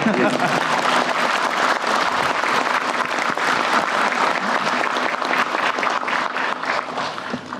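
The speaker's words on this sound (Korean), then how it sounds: "박수도 한번 치워 주세요." Sustained applause from an audience at a live-broadcast government work briefing with the president, steady dense clapping filling the whole stretch at even loudness.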